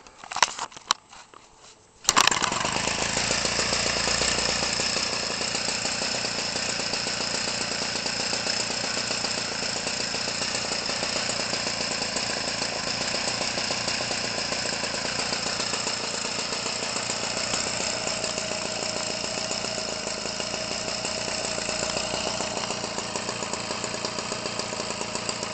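Homelite Textron 25cc gas RC model aircraft engine with muffler, spinning an 18-6 propeller on 93 octane fuel mixed with oil, starting after a few brief clicks and then running loud and steady at a constant buzzing pitch.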